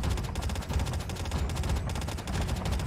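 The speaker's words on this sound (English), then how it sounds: "This is me taking shots at the heli." Rapid automatic gunfire from an in-game weapon in COD Mobile Battle Royale, shooting at a helicopter; dense, continuous bursts of close, loud shots fill the entire stretch without pause.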